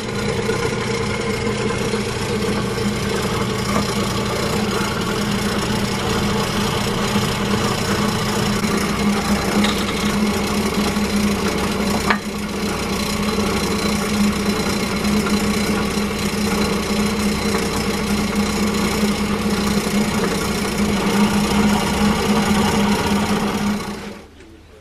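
A powered machine bores holes through a jig while dead eyes are turned, giving a steady close mechanical drone that hums on for a long stretch before cutting off at the end.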